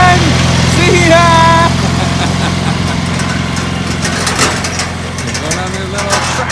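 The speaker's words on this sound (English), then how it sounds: "Going on their little tractor ride." Small farm tractor engine running at a pumpkin patch, a loud close steady chug that slowly fades as it pulls away, with people talking over it.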